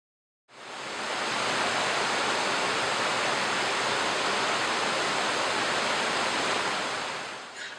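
Pistyll Rhaeadr waterfall roars as a dense, steady broadband rush, loud and continuous after a brief silent start, with no voices.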